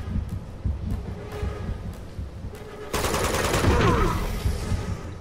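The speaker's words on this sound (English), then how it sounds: "Got him with the explosion" Gunfire and explosions in the video game Uncharted 2: scattered shots early on, then a loud blast erupts with rapid bursts of fire and debris that hold steady before easing slightly.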